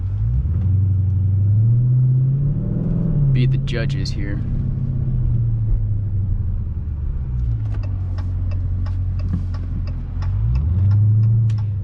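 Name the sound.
Dodge Challenger Scat Pack Widebody engine and exhaust with H-pipe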